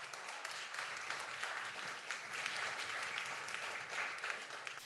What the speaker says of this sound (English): So please, one more round of applause for Sevan.